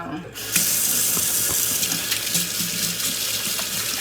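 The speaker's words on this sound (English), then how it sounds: "Let's rinse our hands." Kitchen tap running steadily as hands are rinsed under it while baking chicken and cabbage at home, a continuous close hiss of water splashing into a sink with faint background sounds.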